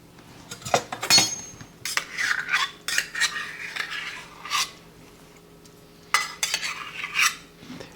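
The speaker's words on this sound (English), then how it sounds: "And then to slowly, gently mix these up." A spoon stirring heavy cream and sour cream into Swedish meatballs in a crockpot, making repeated scraping clinks against the ceramic pot in uneven bursts of gentle mixing, up close.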